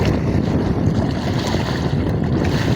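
Loud, continuous rush of wind and churning water around a fishing boat in big sea waves, a dense roar that never lets up.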